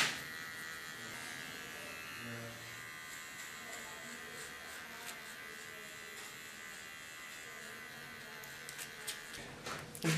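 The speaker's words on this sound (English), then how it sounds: "With my small clipper, I take off the hair I don't use in this hairstyle" A small electric hair clipper runs steadily through hair during a haircut, a continuous close buzz with a faint hum, ending in a few brief handling knocks.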